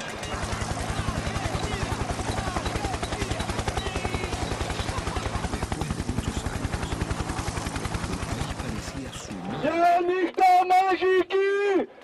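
Loud rapid chopping of helicopter rotor blades pulses steadily for about nine seconds, then gives way to a voice talking.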